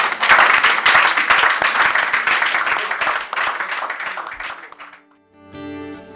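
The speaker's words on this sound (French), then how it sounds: "on va applaudir très fort pour" Guests at a civil wedding ceremony break into loud, dense clapping that holds steady, thins out and fades after about five seconds before a soft musical tone takes over.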